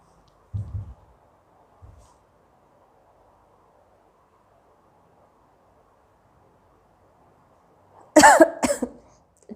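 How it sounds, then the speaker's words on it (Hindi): A woman doing a sneezing challenge with a handkerchief, grass and chili gives one short cough and a faint second one, then a louder burst of two sharp coughs or sneezes after a long quiet stretch. "चीख तो आ रही है, खांसी आ रही है।"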